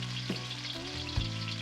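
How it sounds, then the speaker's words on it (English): Boneless ribs slid into hot oil in a wok crackle and sizzle up close. A continuous frying hiss carries a few sharper pops and bursts as the meat hits the oil, with no one speaking. "Gently add the meat into the oil, and we're ready to start wokking."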